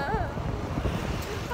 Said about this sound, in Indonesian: anginnya parah sih.